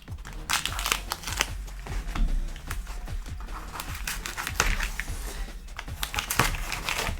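Cardboard packaging from a comic delivery is crumpled and handled up close, with bursts of dry crinkling, tearing and crackling that come in irregular, busy clusters.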